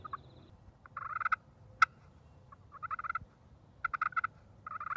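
A turkey call imitates a content feeding hen with soft rolling purrs and sharp single clucks, in several short bursts spread over a few seconds, close but fairly quiet against a low background hum.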